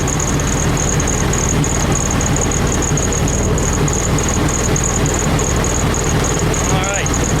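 A 1972 VW Beetle engine running steadily after a new SVDA distributor install, a loud, continuous idle with a constant high whine throughout and no change in pace.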